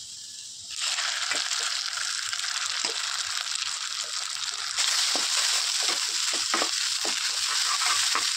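Mashed potato and bhola fish are stirred into hot oil with ginger and garlic in a kadai for fish balls: a steady, close sizzle runs throughout, broken by repeated scraping stir strokes, with no talking.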